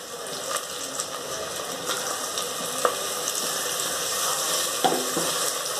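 Tomatoes hissing and sputtering in hot oil with golden-browned onions in a clay pot for fish curry, a steady sizzle broken by occasional utensil scrapes and clicks as they are stirred.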